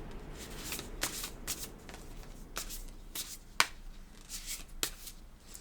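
Thick playing cards being shuffled by hand, a series of soft riffling bursts with occasional sharper snaps, fairly quiet and close.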